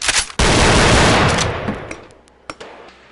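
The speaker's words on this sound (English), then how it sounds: "Glock 18, most people are like, oh yeah, it's a normal pistol, but until you start shooting it. It's a fully automatic." A fully automatic Glock 18 pistol fires one rapid, loud burst lasting about a second, which fades into echoing reverberation, with a few sharp clicks and clacks after it.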